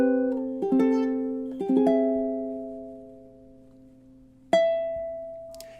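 Ukulele playing measures 23 and 24 of a Christmas song: several quick plucked and strummed chords in a gentle rhythm, a long ringing chord, then a final bright strum fading out, played solo and close.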